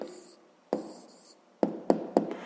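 Pen writing an answer on paper for a fifth-grade maths exercise, one long stroke followed by several short scratchy strokes in quick succession, close and quiet.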